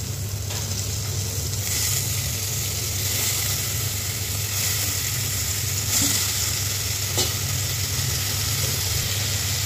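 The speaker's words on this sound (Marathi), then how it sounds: "ती मी मांदेली टाकत आहे।" Mandeli fish fries in spicy masala in a pan, giving a continuous close sizzle with occasional stirring scrapes and a low steady hum beneath, no speech.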